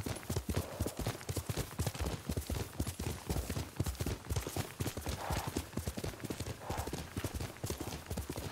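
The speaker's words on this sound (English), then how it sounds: "Good horse, Kage" Rapid, steady clip-clop of a galloping horse's hooves in the video game Ghost of Tsushima, loud and close, pounding continuously with a dense rhythmic beat.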